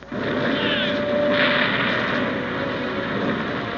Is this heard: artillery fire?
yes